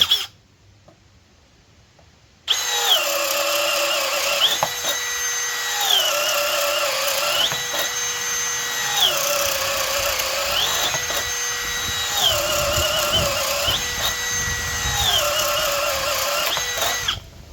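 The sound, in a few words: power drill boring with paddle bit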